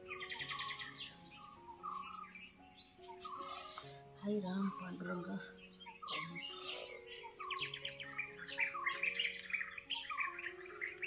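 Several kinds of birds chirp and call in a steady morning chorus outside, a mix of near and distant tweets, while a person speaks briefly over them.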